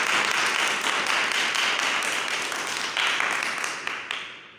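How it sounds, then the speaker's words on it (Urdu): A church congregation claps loudly and continuously in dense, close applause for several seconds, gradually fading at the end, with no speech over it. "آئیں زوردار تالیاں بجائیں زندہ خدا کے کلام کے لیے"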